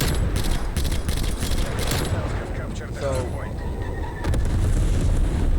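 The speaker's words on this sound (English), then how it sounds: "Enemy napalm strike incoming." Napalm strike in Call of Duty, heard as a dense run of loud, rumbling explosions and crackling blasts that rolls on continuously, easing briefly near the middle before surging again, with game voices faintly mixed underneath.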